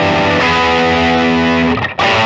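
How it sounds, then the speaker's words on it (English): A heavily distorted chord on a 1954 Gibson Les Paul Standard reissue's bridge pickup rings out thick and sustained, then cuts briefly before striking again. "That bridge pickup definitely comes to life with some distortion."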